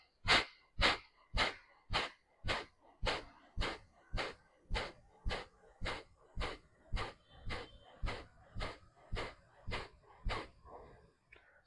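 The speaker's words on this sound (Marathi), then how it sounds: "डीप इनहेल, एक्झेल करत स्ट्रोकने श्वास बाहेर सोडा." Forceful stroke exhalations during pranayama breathing, about twenty sharp bursts of air in a steady rhythm, close and loud with brief pauses between each.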